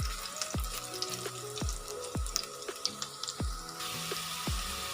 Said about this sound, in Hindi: जो बाकी के बैंगन हैं उनको भी हम इसी तरह फ्राई कर लेंगे मीडियम से